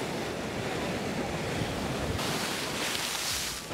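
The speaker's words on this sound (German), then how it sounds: "Vor allem hier die Felsen und die Brandung, das ist schon echt mega cool." Ocean surf breaking against rocks on a Bali shoreline, a steady loud wash of crashing water with a brighter surge of spray near the end, no voices.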